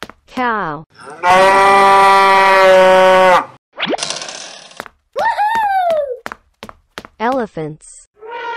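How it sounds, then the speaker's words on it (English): A cow's long, loud, steady moo sounds alone up close, preceded and followed by short cartoonish animal calls and springy boing-like effects. "Cow."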